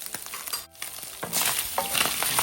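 Minced pork with garlic and pepper stir-fried in a pan, a steady broadband sizzle with scraping stir strokes, briefly dropping out then returning louder and denser.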